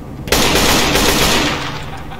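Video game gunfire erupts in a sustained loud burst of rapid automatic shots, a dense continuous rattle that starts abruptly and tapers slightly toward the end.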